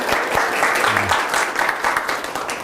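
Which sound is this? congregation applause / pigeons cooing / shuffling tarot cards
congregation applause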